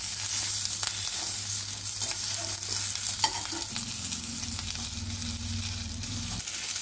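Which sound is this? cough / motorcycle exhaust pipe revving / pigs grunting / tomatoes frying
tomatoes frying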